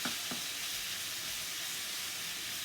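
Kung pao chicken sizzles in a hot pan on a stove turned up high, a soft, steady frying hiss with a couple of light stirring clicks near the start.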